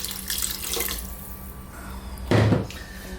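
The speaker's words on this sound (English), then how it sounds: "Just going to add a dash more water into that." Water is poured from a tap into a pressure cooker of lamb and potato masala curry with chopped tomatoes, a short, loud splash of about a quarter second rising out of quiet kitchen background.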